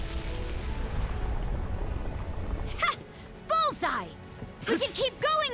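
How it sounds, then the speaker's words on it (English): A heavy, rumbling cannon blast in the video game Ys X: Nordics rolls on for a few seconds, then animated voices chatter over the fading background. "Looks like that cannon still works."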